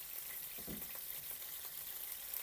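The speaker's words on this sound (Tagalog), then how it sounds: "iprito muna natin yung ating talong" Sliced eggplant frying in a pan for pork binagoongan, a soft steady sizzle of hot oil running throughout at low volume, with a few brief clinks or stirs near the start.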